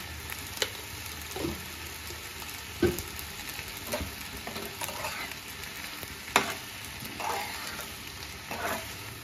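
Ground coriander and cumin fry in a pan with a continuous close sizzle, broken by several sharp scraping stirs of a spoon at irregular intervals.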